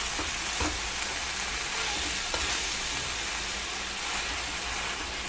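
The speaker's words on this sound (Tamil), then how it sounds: "ஆட் பண்ணிட்டு நல்லா வதக்கி விடுங்க." Mint and coriander leaves sautéing in a pan for a coriander chutney give a steady, close sizzle and crackle with a few soft stirring scrapes, with no talking.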